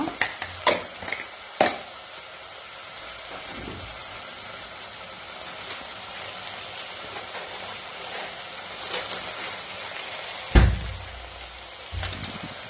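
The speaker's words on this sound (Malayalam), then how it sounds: "ഇനി നന്നായി യോജിപ്പിക്കാം." Chicken curry with chili powder and garam masala is stirred in a pan, a soft continuous sizzle broken by a few sharp scraping clacks of the spoon against the pan, fairly faint and close.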